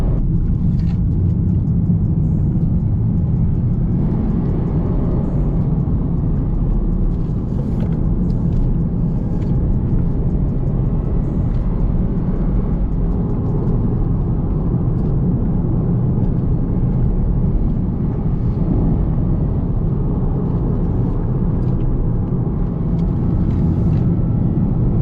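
Lexus IS 200t car driving on the road and accelerating, a steady loud engine and road rumble from inside the cabin throughout, with no voices.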